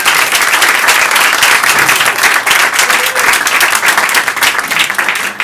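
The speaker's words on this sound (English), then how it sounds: "Please give them a huge round of applause for their ongoing support." Loud sustained applause from a literary festival audience, a thick, even roar of many hands clapping close by that continues without a break.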